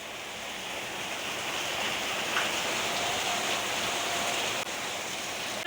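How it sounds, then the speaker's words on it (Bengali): Heavy monsoon downpour outside a house, a dense, steady roar of rain hissing without a break, with no voices over it. "বৃষ্টির আওয়াজ শুনে বুঝতেই পারছো কত জোরে বৃষ্টি নেমেছে, মুষলধারে আবার নেমেছে রাতের মতন"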